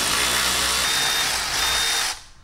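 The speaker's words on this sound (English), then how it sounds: "now that I broke this free a little bit, I can use my power ratchet here" A power ratchet whirs steadily for about two seconds while loosening a bolt on a Mercedes E63 W212 suspension during a lowering spring install, then cuts off abruptly, loud and close.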